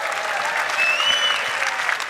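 Audience at a 2024 Ford Mustang presentation applauding and cheering, a steady dense clapping wash with a few whistles on top, fairly loud and continuous.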